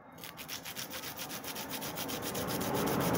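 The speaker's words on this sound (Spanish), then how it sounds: "Con una mano detienen la lija y con la otra le tallan." Hand sanding of a hair clipper blade on sandpaper gives a steady, close rasping scrape in quick regular strokes that grow slightly louder, with no talk.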